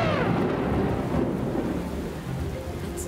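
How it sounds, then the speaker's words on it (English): Cartoon thunderstorm: a deep rolling thunder rumble sweeps through heavy rain, loud and close, the downpour hissing steadily as the thunder fades. "Trumpet the skies and herald the rain to begin."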